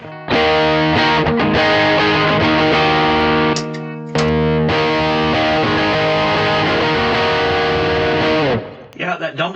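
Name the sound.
electric guitar played through Dumbler amp tone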